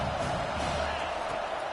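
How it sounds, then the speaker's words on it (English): A home crowd at a football game roars continuously, a dense broadband wall of cheering and whooping that stays loud and steady from start to end. "how nice is it to have the home crowd going absolutely bananas?"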